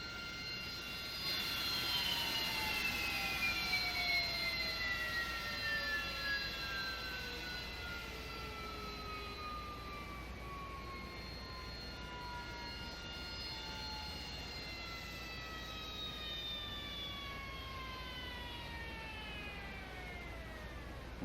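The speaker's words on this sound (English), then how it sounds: "Watch that turbine come to a halt." A Harrier jet's turbine winding down after engine cutoff in the DCS World flight simulator, a high whine with falling tones that slowly sink and fade over about twenty seconds, heard alone.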